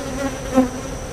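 Honeybees at an open hive during an inspection in a new bee yard hum in a close, steady drone, swelling briefly midway, with no voices.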